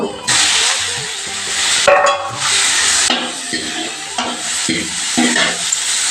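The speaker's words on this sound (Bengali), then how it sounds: "আমি সয়াবিনগুলো ভেজে নেবো একে একে।" Soybean chunks fry in hot oil in a wok, giving a loud, close, continuous sizzle broken by bursts of stirring and scraping, with no talking.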